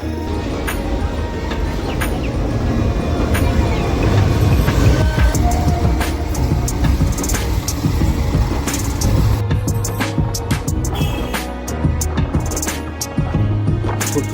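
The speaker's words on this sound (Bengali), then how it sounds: "সামনের থেকে যে ট্রেনটা আসছে সেটা লিডোর থেকে আসছে, রাঙ্গিয়া যাবে" A train from Ledo bound for Rangiya approaches on the line near the far-eastern end of India's railway, rumbling loudly and steadily with clicking wheels and metallic rattles, while birds chirp faintly and no one talks.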